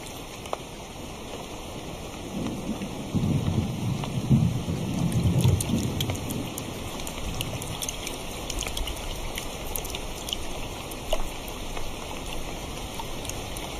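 A heavy downpour hisses steadily on the ground while a deep roll of thunder rumbles up and fades in the first half, with a persistent high electronic tone running throughout.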